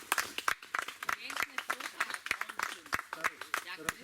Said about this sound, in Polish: Także jeszcze raz brawa.